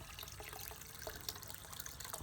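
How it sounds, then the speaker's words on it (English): A thin trickle of water runs in a small homemade garden water feature with a fish pond and stones, a faint, steady splashing with no talk. "There's the little trickle of water that we were after."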